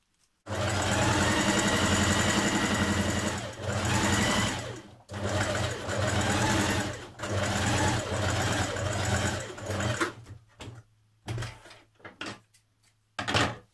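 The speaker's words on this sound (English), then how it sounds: "have your machine on a long straight stitch, and we're going to stitch just a few millimetres away from the edge" A sewing machine runs a long straight stitch a few millimetres from a fabric edge, humming in long continuous bursts with brief pauses. It ends in short stop-start runs.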